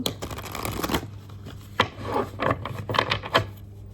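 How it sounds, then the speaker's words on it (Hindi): Tarot cards are shuffled by hand close by, giving quick papery riffles and soft slaps in several short bursts, with no one speaking. "Okay, one more shuffle."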